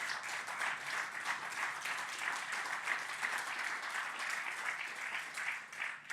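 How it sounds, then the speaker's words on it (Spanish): A church congregation applauds in continuous, fairly faint clapping that holds steady throughout with no speech over it. "Un aplauso al Señor fuerte."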